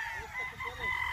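A brief rooster crow at a farm raising battle stags, fairly clear amid background clucking and faint voices nearby.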